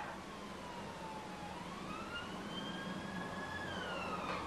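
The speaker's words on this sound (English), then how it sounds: "that's like the 4th ambulance I've heard in like the last 2 days" Ambulance siren passing outside, a wailing tone sliding up and down as it moves by, distant and faint beneath a steady background hush with no talk.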